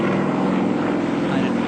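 Yak-50 aerobatic aircraft's engine roaring during an aerobatic display, a steady loud droning buzz with a constant pitch and no breaks.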